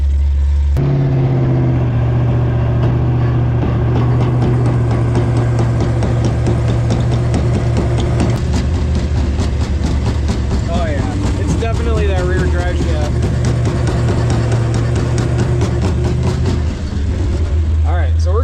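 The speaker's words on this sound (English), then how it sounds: "It's this rear drive shaft. Something has gone wrong inside of there." A vehicle driving with a failing rear driveshaft, a loud, continuous engine and drivetrain drone with rhythmic clunking and rattling, with speech heard over it.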